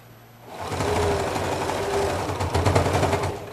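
A sewing machine stitches a seam on a quilt casing with a steady, close mechanical whirr that starts after a brief quiet moment and holds without a break.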